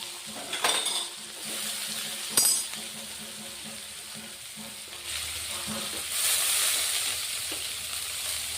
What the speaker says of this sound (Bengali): এখন বন্ধুরা পেঁয়াজ ফোড়ন দিব এই তেলের মধ্যে